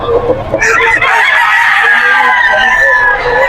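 A young Golden Boy gamecock stag at a pet market crows loudly and close, one long drawn-out call lasting several seconds, with market voices murmuring underneath.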